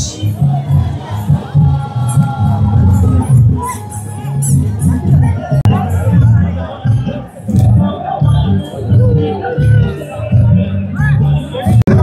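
A dense festival crowd at the Narali Purnima celebration in Dongri Galli, Versova Koliwada, cheers and shouts continuously, with loud overlapping voices and excited hubbub throughout.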